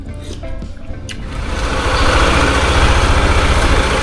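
A motorcycle engine idles while warming up, a steady low rumble that starts moderate and swells louder and fuller after the first second, holding even to the end with no talking.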